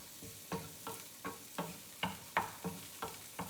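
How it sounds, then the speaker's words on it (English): Green and red peppers with green onions sautéing in a pan for breakfast burritos, a soft sizzle under about ten even scrapes of a spoon stirring, no talk. "I'm just gonna let that saute for a bit there"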